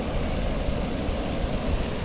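Steady, broadband wind rushing and buffeting beside a river, loud and continuous, with no voices.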